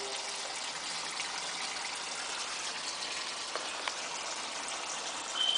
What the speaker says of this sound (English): it's running a full open